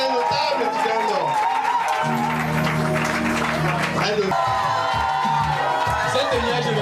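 An audience applauds and cheers for a traditional notable's outfit from Cameroon's Grand Nord. The clapping and whoops form a dense, loud, continuous wash, with voices and music-like tones mixed in throughout.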